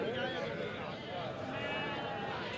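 A goat bleats at a crowded livestock market in Khanewal, wavering cries rising over a thick murmur of people talking and general market bustle.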